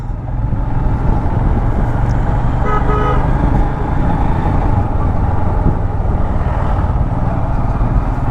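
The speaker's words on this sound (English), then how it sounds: "Toy train." Darjeeling toy train rolling past with a steady loud rumble, sounding a few short toots of its horn midway, close by with no talk.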